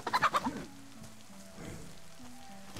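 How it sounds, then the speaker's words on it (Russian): A chicken in the DayZ video game gives a quick burst of clucks, then falls quiet under soft rain-like ambience. "Курица."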